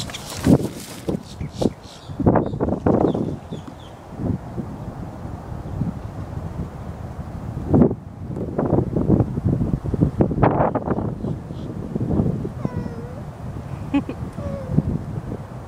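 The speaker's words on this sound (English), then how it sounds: "Wind, please cooperate." Wind gusts buffet the microphone outdoors in rough, uneven bursts, heard under people talking.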